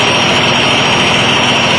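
A Kymco Super 9 scooter engine idles as a loud, steady, buzzing drone with no change in speed, heard up close and alone.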